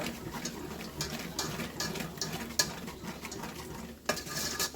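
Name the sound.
stirring gravy, scraping browned bits off pan bottom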